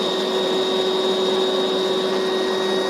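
A small electric pump runs steadily while inflating a CHILLSUN two-person air mattress, giving a continuous even whine and drone close by with no voices.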